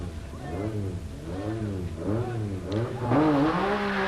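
An MG Metro 6R4 rally car races on the 1986 RAC Rally, its engine revving up and down in repeated close, loud swells over about four seconds.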